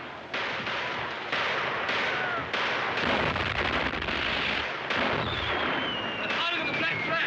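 A Turkish artillery gun fires in a 1939 war film, sending out a series of heavy, booming blasts every second or so against a noisy battle-scene background, with faint voices mixed in.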